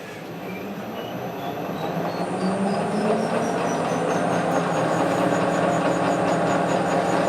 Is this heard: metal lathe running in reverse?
yes